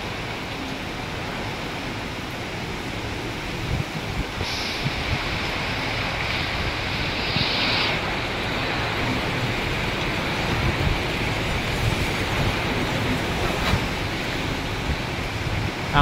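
Strong typhoon wind gusting steadily as a broad roar with surging swells, no voices, loud and constant throughout.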